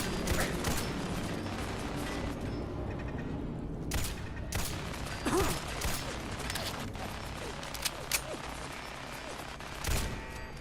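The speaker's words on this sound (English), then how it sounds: "Those are some mean turrets." Automated gun turrets fire in Fallout 4, with dense, continuous rattling bursts of gunfire and mechanical clatter filling the whole stretch, sharper cracks standing out now and then, while a voice talks at times.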